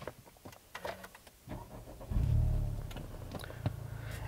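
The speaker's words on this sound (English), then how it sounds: "it's got the traditional starter noise, other than the push-button start." A Honda Civic Type R engine cranks with a brief starter whir, then catches and settles into a steady idle rumble, close by with some clicks and cabin noise.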